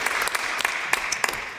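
A small room audience at a city council meeting claps in sparse, uneven bursts, with a few distinct hand claps standing out against a steady background hiss.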